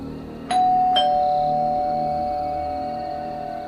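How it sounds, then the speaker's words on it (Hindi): A doorbell rings within a Hindi horror story, two bright electronic chimes struck about half a second apart, the second tone ringing on and slowly fading, clear and alone over a faint low ambience. "थोड़ी ही देर में डोरबेल बजी।"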